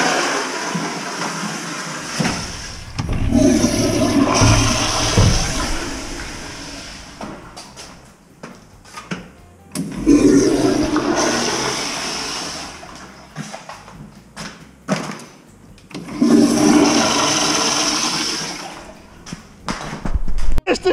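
Water poured and flushed into a toilet feeding a clogged sewer line being cleared with an electric snake, arriving in three surging, gurgling rushes separated by quieter clatter, with people talking nearby.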